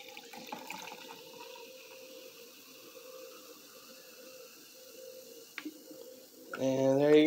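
Coca-Cola mixed with vodka is poured into a glass, a faint steady liquid trickle and fizz running for several seconds before a voice speaks loudly at the end.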